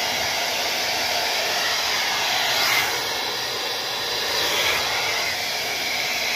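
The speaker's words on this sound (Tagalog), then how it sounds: "Kaya hirap ako mag-blower." A hair dryer blows with a steady, close, airy whoosh throughout, rising and falling slightly in strength as it moves while someone dries freshly self-dyed black hair; no talking.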